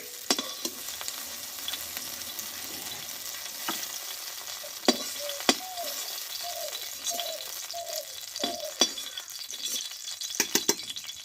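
Eggplant pieces sizzle gently in mustard oil in a wok, a low steady fry punctuated by sharp scraping knocks and clinks of a spatula lifting them out, close up with no talk.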